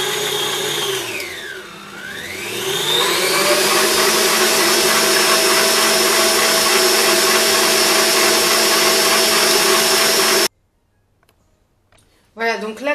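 A kneading machine works Turkish bread dough, a loud steady motor whine that ramps up after a brief dip, runs evenly for about ten seconds, then cuts out abruptly before a short burst of noise.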